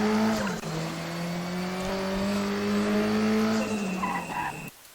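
A Volvo 240T race car on the Macau street circuit in the RaceRoom Racing Experience game holds a loud, steady engine drone with rising pitch, while tyres squeal through a corner, then the sound cuts off abruptly.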